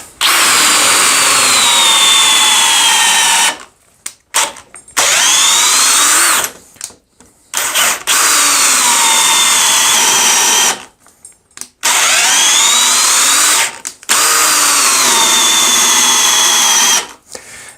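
Parkside PPBSA 20 Li A1 cordless drill driving a 16 mm, 40 cm auger bit into wooden beams, a loud close whine in several long bursts separated by short stops, pitch sagging under load.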